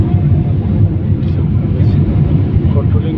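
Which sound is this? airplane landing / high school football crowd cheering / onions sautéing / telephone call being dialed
airplane landing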